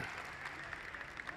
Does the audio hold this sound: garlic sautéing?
no